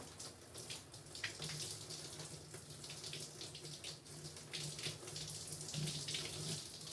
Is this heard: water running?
yes